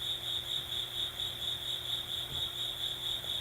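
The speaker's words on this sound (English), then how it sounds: "discovered the sound of the cricket" A cricket chirps loudly and close in a quiet meditation space, its shrill trill pulsing in a fast, continuous rhythm over faint background hum, with no one speaking.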